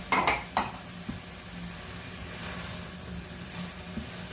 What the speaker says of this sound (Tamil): எல்லாம் சேர்த்துட்டு ஒரு ரெண்டு நிமிஷம் நல்லா கிளறி விடுவோம்